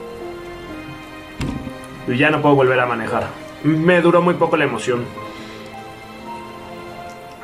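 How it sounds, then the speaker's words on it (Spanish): Steady rain falls in the video game Last Day of June, a soft continuous patter in the background while someone talks in Spanish over it. "ahora sí que llueve"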